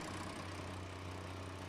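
A tractor engine idling in Farming Simulator 19, a faint, steady low rumble with a constant hum underneath, brief and unbroken with no talking.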